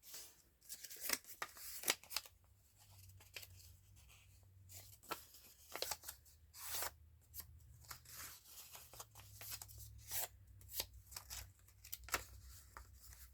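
Scissors cutting paper for a junk journal envelope, a run of crisp close snips at an uneven rhythm, alone in a quiet room.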